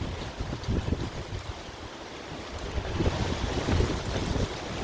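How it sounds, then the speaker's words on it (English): Wind roars steadily with rising gusts and low rumbling buffeting, a broad outdoor rush that grows louder toward the end. "Yeah, it's a little bit windy."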